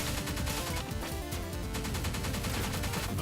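Gunfire in the video game Pineapple Smash Crew, dense continuous rapid shooting with overlapping blasts, loud and unbroken throughout.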